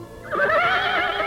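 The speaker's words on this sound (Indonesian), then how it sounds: "pendekar Lo menuntun istrinya menuju kuda yang ditambatkan di bawah pohon ketapang" A horse neighs in an audio drama, a loud, close whinny rising and wavering over about a second, with faint background sound beneath it and no talk.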